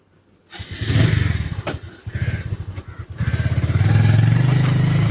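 Motorcycle starting up close by after a short quiet moment, its engine chugging and revving in uneven bursts, then settling into a loud, steady running throb.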